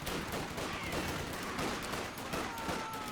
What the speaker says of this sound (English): Submachine guns up the wazoo from the close quarter combat.